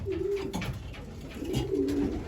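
Young racing pigeons coo close by in their loft, low rolling calls repeating in a few distinct bursts over steady background noise, with no voices.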